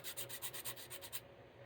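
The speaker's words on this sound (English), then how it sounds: "we're just going to keep on sanding on this, keep on sanding on this" Hand sanding with sandpaper on a pacer build piece, a quick run of rhythmic rasping strokes, about six even passes in a row, close and clear, stopping abruptly near the end with a quieter trailing scrape.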